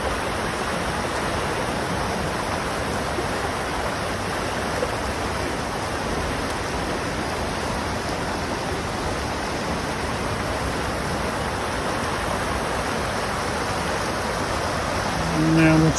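A creek swollen after heavy rain roars steadily, its broadband rushing water loud and continuous for the whole stretch without letup.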